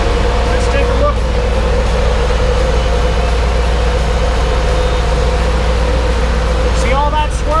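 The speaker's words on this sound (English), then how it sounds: "we've got the engine running. You can hear the intercooler fans are running." Truck engine idles steadily in a shop with intercooler fans running, a loud low rumble with a constant whirring drone throughout and a few faint squeaks.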